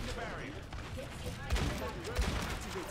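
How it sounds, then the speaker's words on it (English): Gunfire in an Overwatch match, rapid repeated shots and bursts with a couple of heavier hits, set amid busy game effects. "Just keep shooting them."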